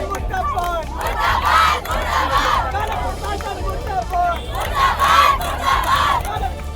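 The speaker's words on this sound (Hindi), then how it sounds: "सैकड़ों की संख्या में मेडिकल के छात्र मेडिकल कॉलेज के गेट पर इकट्ठे हो गए और जमकर नारेबाजी करने लगे।" Hundreds of medical students gathered at a medical college gate, shouting slogans in loud, continuous, rhythmic chants, the massed voices rising and falling in waves close by.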